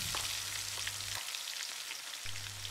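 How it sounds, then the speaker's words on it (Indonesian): Ground chili spice paste fries in hot oil in a wok for ayam bakar Taliwang, giving a loud, steady crackling sizzle with a low hum that cuts out briefly and returns. "kita panaskan dulu minyaknya di wajan, kemudian masukkan bumbu halusnya."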